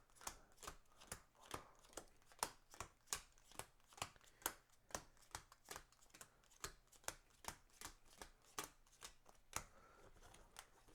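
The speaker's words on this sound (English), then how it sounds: "Okay, so let's shuffle this really good." A deck of Viticulture board game cards is riffle-shuffled repeatedly, about two dozen sharp, evenly spaced card snaps close up in quiet surroundings, with no talking.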